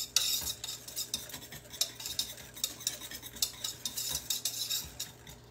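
Queso being stirred in a pot, a quick series of soft utensil scrapes and light metallic clinks against the pot in a steady, close rhythm.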